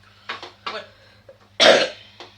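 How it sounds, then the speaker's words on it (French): A woman coughs in a home kitchen while making blanquette de veau, a few short hacking bursts with one louder cough near the end, close and otherwise quiet. "Juste à des moments je tousse plus fort, à des moments je tousse pas trop."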